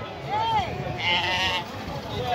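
Young goats bleat at an open-air livestock fair in Custódia, Pernambuco, Brazil, with a couple of wavering cries rising over a background murmur of crowd noise.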